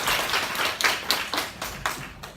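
Short burst of audience clapping during a Sunday church service, a handful of distinct, fairly close claps in loose rhythm that thin out over about two seconds.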